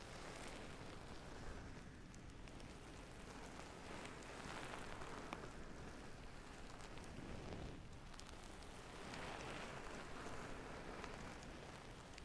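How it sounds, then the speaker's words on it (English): Rain falling on rooftops, a continuous soft patter and hiss with gentle swells in intensity, quiet and close as an ASMR trigger. "rain on rooftops"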